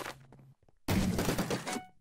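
Gunfire from a guns mod in the game Minecraft: a short sound, then a loud rapid burst of shots lasting about a second.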